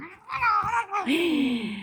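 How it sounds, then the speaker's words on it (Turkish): Domestic cats caterwaul and yowl in a fight, two loud drawn-out wailing cries close by, the second rising and sliding down in pitch. "ben çıldırttım bütün kedilerimi"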